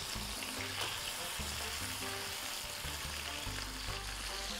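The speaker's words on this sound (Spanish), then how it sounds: "lo que quiero es sellar el pollito." Chicken searing in a hot pan, giving a loud, continuous sizzle and frying crackle with occasional stirring noises, steady throughout and heard alone with no talk.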